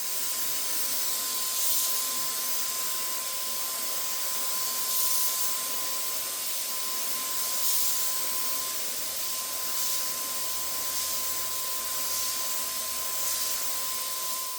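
A Wagner 4300 electric gravity-feed spray gun lays down a dust coat of Rust-Oleum paint, giving a steady, soft airy hiss with a constant motor whine that swells slightly in gentle passes.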